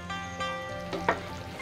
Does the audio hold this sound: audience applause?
no